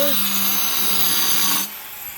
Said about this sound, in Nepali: यो चाहिँ मार्बल कटिङ मेसिन